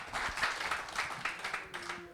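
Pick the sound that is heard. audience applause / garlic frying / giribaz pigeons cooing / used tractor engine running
audience applause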